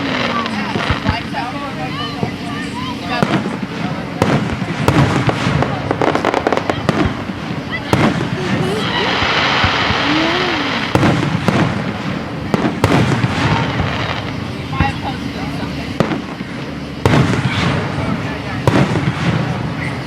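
Fireworks explode in a long outdoor display, with repeated booms and crackles of varying loudness under wind noise and steady chatter from a nearby group of spectators.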